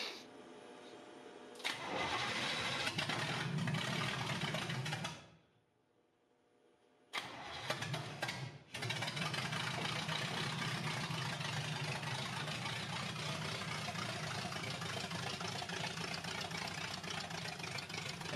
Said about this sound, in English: the FiTech system has figured out how to maintain an idle